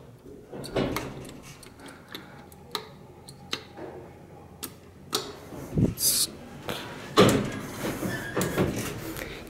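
A 1980 Otis Lexan traction elevator door at a Best Western hotel repeatedly trying to shut, giving scattered clicks, knocks and sliding thumps at irregular intervals in a quiet hallway.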